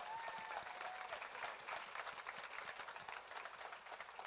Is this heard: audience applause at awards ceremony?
yes